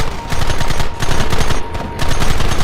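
Loud, rapid gunfire from the Western video game Red Dead Redemption, with dense bursts of automatic shots rattling in three sustained volleys separated by brief pauses.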